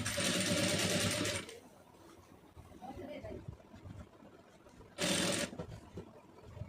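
Sewing machine stitching fabric piping: two loud, close bursts of rapid steady whirring, a long one at the start and a shorter one later, with quieter handling noise and soft talk between.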